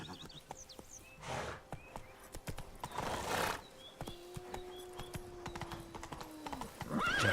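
Roach, a horse in The Witcher 3, gallops with rapid clip-clopping hoofbeats and lets out a whinny, over game ambience with a sustained tone.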